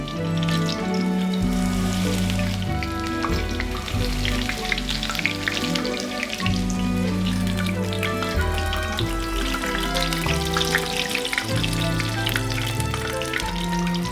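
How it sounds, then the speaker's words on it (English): Beer-battered courgette flowers, homegrown and stuffed, fry steadily in a pan with a continuous close sizzle and crackle, while tonal background sound runs alongside throughout. "my garden homegrown courgette flowers fried in a beer batter stuffed with something luxurious"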